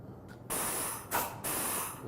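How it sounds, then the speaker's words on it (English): A Graco GX-7 polyurea spray foam gun is triggered with compressed air, giving a faint puff and then three loud, sustained hissing bursts of air in quick succession. "We're just going to trigger the gun."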